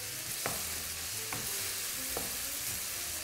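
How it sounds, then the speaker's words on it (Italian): Onions with salt stewing in a pan for 'nduja pasta, a constant soft sizzle with three light scraping stirs spaced about a second apart. "Ora con tutta la pazienza del mondo si fanno stufare queste cipolle per qualche minuto."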